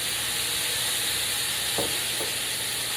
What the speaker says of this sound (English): Now, that's deglazing the pan, okay?